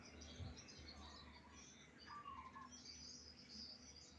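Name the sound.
birds calling back and forth under a tree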